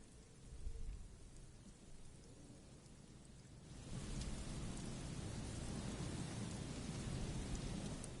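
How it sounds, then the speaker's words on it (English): White noise like waves washing a beach hisses through a telephone line in the video game Disco Elysium. It stays steady at first, then swells louder and holds at a dense roar. "Her voice is drowned in white noise. Sounds like waves washing a beach, growing in volume until..."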